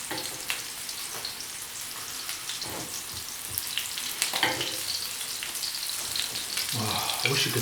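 Italian meatballs sear in a frying pan with a dense, crackling sizzle like rain on a surface, steady and close with a few stirring scrapes.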